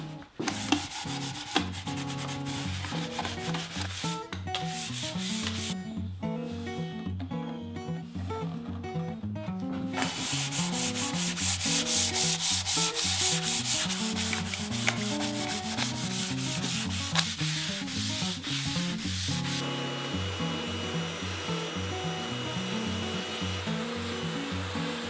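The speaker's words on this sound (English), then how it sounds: "I just finished sanding the whole piece of furniture with 320 grit sandpaper, just sanding it lightly." Continuous rhythmic rubbing and scratching of fine 320-grit sandpaper over a wooden piece of furniture, sanded lightly by hand, close up and steady, going on for a long stretch.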